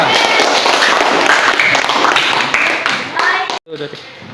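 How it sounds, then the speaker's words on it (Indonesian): Students in a classroom clap loudly for a group that has just finished its practical demonstration, with dense close clapping and voices mixed in, cutting off abruptly near the end. "tepuk tangan untuk kelompok 2"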